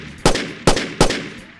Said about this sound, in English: The sound of gunfire is just a byproduct of gun mechanics.